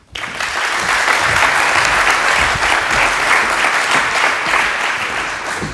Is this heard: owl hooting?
no